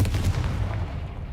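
A Confringo fire blast spell going off in the Hogwarts Legacy video game, a single deep booming burst at the start that rumbles and fades over about a second, with no voices.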